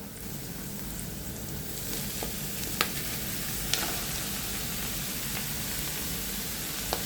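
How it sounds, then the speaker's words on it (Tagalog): Goat offal sautéing in hot oil with onion, garlic and ginger for pinapaitan: a steady, dense sizzle with occasional sharp pops and spatters, close and continuous throughout. "So, igisa natin siya hanggang maprito."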